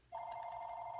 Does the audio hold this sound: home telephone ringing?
yes